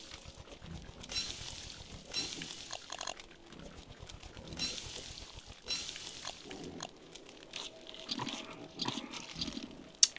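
Pigs oink and grunt in the video game Don't Starve, a string of short quiet snorts at an uneven rhythm over soft background game sounds, no talking.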